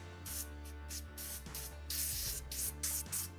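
Liquid is sprayed onto smoked beef ribs before wrapping in butcher paper, a run of short hissing spray bursts in quick succession over a steady low hum, with no voices.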